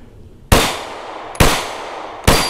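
Three loud, close gunshots from a Sar9x pistol firing a competition shooter's reloaded ammunition, spaced just under a second apart, each a sharp crack with a short ringing decay.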